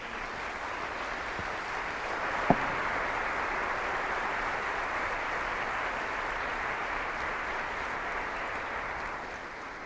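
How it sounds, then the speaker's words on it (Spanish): A church congregation applauds steadily, the dense clapping holding at an even level throughout with one sharp knock early on, then tapering slightly at the end. "Dele un aplauso a Jesús."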